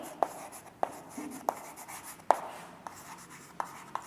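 Chalk or marker writing on a board during a Hindi-language chemistry class on solid-state unit cells, heard as a series of sharp, evenly spaced tapping strokes against a quiet room, with no talk.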